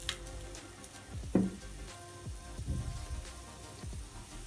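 Batter sizzling softly in an oiled pan as a little oil is drizzled around the edges, a steady faint hiss with a few brief crackling spurts, no voices.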